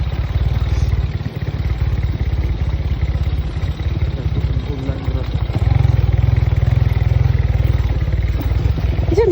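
A motorcycle engine runs close by with a steady low rumble, its pitch and loudness rising in the second half as it seems to rev, with people talking over it.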